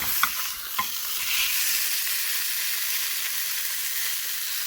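A spinach and egg omelet with melted cheese sizzles in a frying pan, a steady close hiss and crackle with a couple of brief utensil taps near the start.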